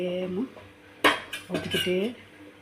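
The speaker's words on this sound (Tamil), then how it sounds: "நம்ம ஊற்றிக்கிட்டே கிண்டலாம், ஊற்றிக்கிட்டே கிண்டிக்கலாம்." A pot of traditional food is stirred while liquid is poured in, giving sharp metallic clinks and scrapes of a utensil against the pot in short bursts, with a person talking between and over them.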